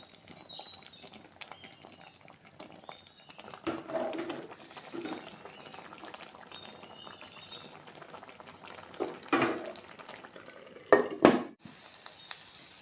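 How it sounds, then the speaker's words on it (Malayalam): A pot of anchovy fish curry bubbles softly at a boil while it is stirred, with occasional spoon and pot clinks; birds call faintly in the background. "ഒന്ന് ഇളക്കി കൊടുക്കണം."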